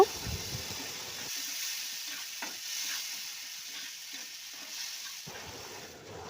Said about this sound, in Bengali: জলটা দিয়ে আদা রসুন পেস্টটাকে আমি কষে নেব